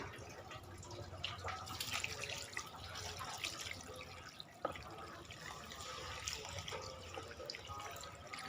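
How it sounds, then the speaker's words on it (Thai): Tap water runs into a container of soaking wild yam, a faint, steady splashing trickle that continues throughout with small drips and no voices. "หลังจากนี้ก็เปิดน้ำใส่กลอยให้ท่วมเลยค่ะ"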